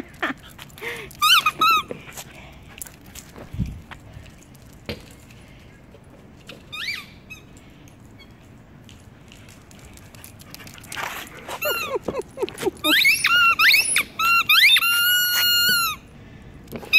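A husky squeaks a squeaky toy in repeated bursts of high squeals, with quieter stretches and some soft dog whimpers between; a person talks at times.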